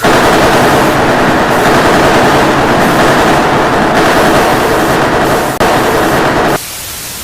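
Sustained, loud automatic machine gun fire in a fright-game fan film, a dense unbroken rattle lasting several seconds before cutting off abruptly near the end.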